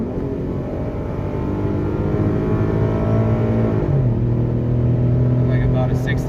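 A tuned Ford Mustang 3.7 V6 accelerates hard, its engine note climbing, then dropping at a gear shift and rising again, close and loud under a voice.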